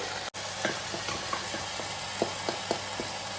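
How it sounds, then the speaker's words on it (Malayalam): A spoon stirs pepper and garam masala into a stew of beef, potato and carrot. Soft, quiet taps and scrapes come at an uneven pace over a faint steady sizzle, with no talk. "മസാലകൾ ഇട്ട് കൊടുത്തു ഒന്ന് ഇളക്കി കൊടുക്കാം"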